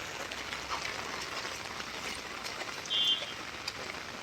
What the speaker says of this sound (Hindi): तीन दिन से लगातार बारिश हो रही है।